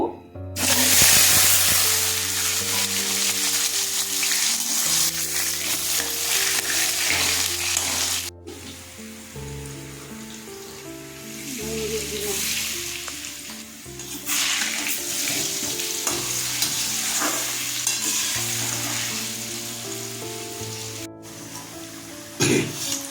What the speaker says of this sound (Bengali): তেল গরম হয়ে গেছে, প্রথমে আমি আলুগুলো ভেজে নেব।